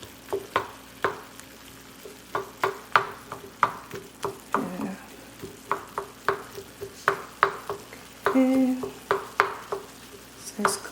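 Ground beef for Jamaican beef patties frying in a pan, a steady sizzle under regular scraping and stirring strokes of a utensil, with brief clinks against the pan.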